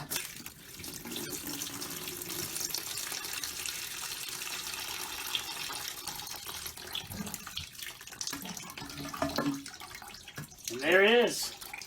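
Water rushes and splashes out of a toilet tank as the old fill valve is pulled free, a steady pouring wash lasting several seconds, with someone talking close by and a brief louder gurgle near the end.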